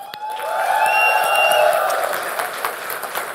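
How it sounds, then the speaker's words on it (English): Audience at a smartphone launch event clapping, a short loud burst of crowd applause rising and holding steady over a few seconds. "Let's have a big clap."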